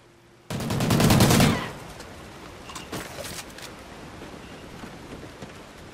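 Gunfire in the video game Call of Duty: Ghosts: a loud, rapid burst of automatic shots lasting about a second, followed by quieter scattered distant shots and ambient battlefield noise.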